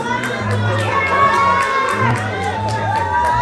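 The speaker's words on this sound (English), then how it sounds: "clap your hands and make lots of noise" An open mic lounge audience cheers, whoops and shouts in a steady, loud crowd roar with overlapping voices and some clapping.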